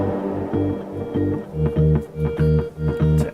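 A punchy brass-like synth stab pattern repeats in short rhythmic bursts over a low bass line, loud and upfront with no voices.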